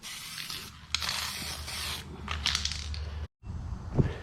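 A faulty aerosol can of rust protection coating blowing out while being sprayed onto a 1968 Ford XT Falcon panel under repair, a close hissing spray in bursts with a brief cut near the end.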